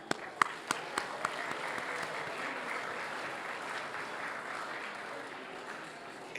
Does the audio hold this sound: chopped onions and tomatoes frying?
no